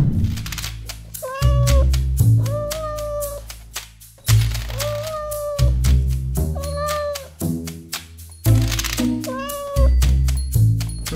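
Several loud, close cat meows repeat in a steady rhythm, each a drawn-out rising and falling cry over a background of knocking and rustling.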